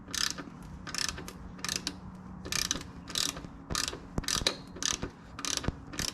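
Ratcheting clicks from a wrench loosening a thread-locked bolt on a Sur Ron electric dirt bike's primary drive: bursts of rapid metallic pawl clicks in a steady back-and-forth rhythm, close and clear.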